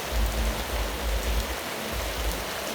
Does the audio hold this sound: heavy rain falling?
yes